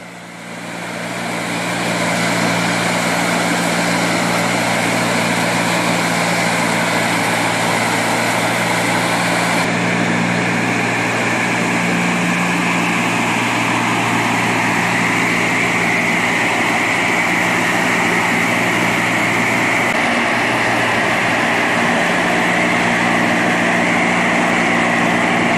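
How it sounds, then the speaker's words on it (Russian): A homemade leaf blower built from a jet turbine and driven by a tractor, used to clear debris and leaves, runs with a loud, steady high-pitched whine and engine drone for the whole stretch. "Самодельная воздуходувка из реактивной турбины с приводом от трактора для очистки территории от мусора и листьев."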